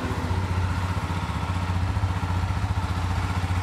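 A 2021 Honda CB 250 Twister motorcycle engine runs at a steady idle close by, a throbbing low pulse with light mechanical clatter, heard alone with no talking.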